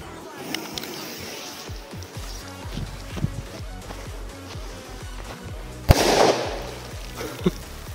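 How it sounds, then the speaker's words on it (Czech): A Dumbum mini firecracker bursts in a water puddle with one sharp bang near the six-second mark, preceded by scattered clicks and background noise outdoors. "A můžeme začít s první petardou."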